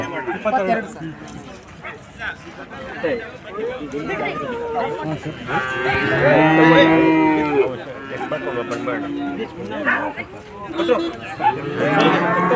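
Crossbred calves, some only days or a few months old, moo loudly at an outdoor calf show held by a milk federation, with people talking and a crowd murmuring throughout.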